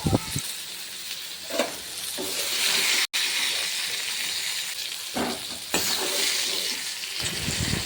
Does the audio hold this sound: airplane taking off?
no